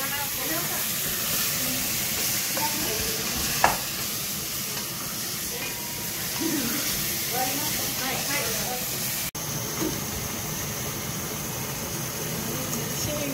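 Chopped onion fries in a pan for pork sinigang, giving a steady, moderate hiss and sizzle that runs throughout, with a few soft clicks and utensil taps on top.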